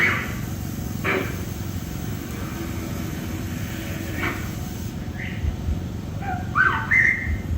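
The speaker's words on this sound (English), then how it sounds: "You hear the whistle back." Brief whistles sound against a steady rumbling background at the Smoky Mountain Bigfoot Festival, one near the start and a few rising whistled notes near the end.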